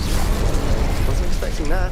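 Incendio fire spell cast in Hogwarts Legacy, a loud whooshing crackle and rumbling burst of flame, with a short warbling magical tone near the end.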